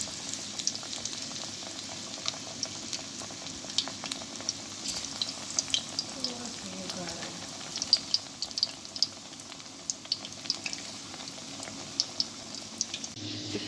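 Batches of gobi and aloo pakoras frying in hot oil, giving a steady close bubbling sizzle with scattered small pops and crackles throughout, no voices.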